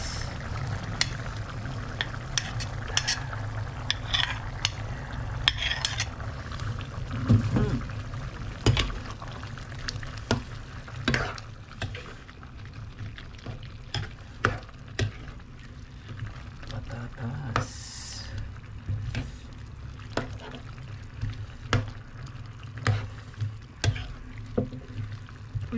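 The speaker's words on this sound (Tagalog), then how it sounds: "ilalagay na natin ang patatas" Potatoes are added and stirred into buffalo meat menudo frying in a pot. Irregular scraping knocks and clatters ring out over a steady low sizzle, with a voice briefly in the background.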